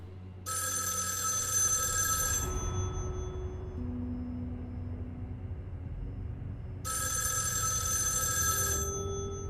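A telephone rings in the Erica video game, two bright electronic ring bursts separated by a few seconds over a low, steady ambient hum.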